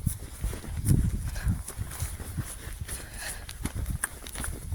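A horse's hooves clip-clop in a quick, uneven trotting rhythm on soft ground nearby, with rustling and faint background noise.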